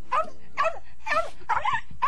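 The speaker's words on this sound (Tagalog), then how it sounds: "Ano ba yung aso na yan?" A dog yips and whimpers in a string of five short, strained cries at close range, each rising and falling in pitch, with brief gaps and a low background hum between them.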